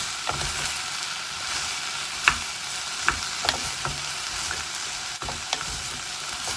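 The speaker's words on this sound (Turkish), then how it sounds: "Brokoli. Biraz pişiriyorum." Broccoli cooks in a pot for a vegan broccoli soup with cashews: a steady, soft sizzle runs throughout, broken by scattered clicks and scrapes of stirring, with no voices.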